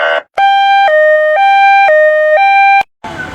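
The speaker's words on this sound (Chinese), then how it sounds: "我是医生，我要坐着救护车去救人。" A toy ambulance gives a close, loud electronic two-tone siren, alternating high and low notes in a steady rhythm for several cycles before it cuts off.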